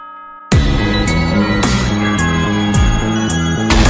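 Bell chime marking the end of the night in a Minecraft-style Five Nights at Freddy's game, ringing loud and close in repeated resonant strikes with lingering tones, alone without talk.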